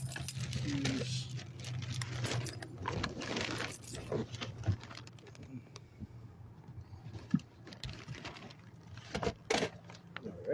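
Keys jangling as someone gathers a notebook, charger, belt, phone and watch, metallic clinks scattered through about ten seconds alongside rustling handling noise and a low steady hum, with a few sharper close clatters near the end.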